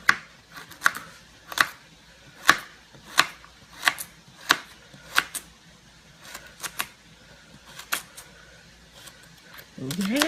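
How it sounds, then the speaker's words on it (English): A knife chops carrots on a cutting board in a home kitchen, sharp evenly spaced knocks that come about every half second and then grow irregular, close and clear, with faint room noise between strikes. "Just chop them, chop, chop,"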